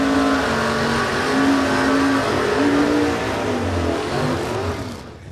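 Loud, sustained engine roar from a Plymouth drag racing car at the start line of a drag strip, held at high revs with slight pitch wavers before fading at the end.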